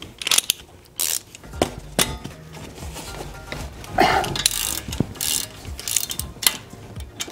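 Ratchet wrench with a 13 mm 12-point socket backing out hub retaining bolts on a Jeep Wrangler Dana 30 front axle: close, loud bursts of rapid clicking ratchet strokes, pausing and restarting, with metallic clanks and no speech.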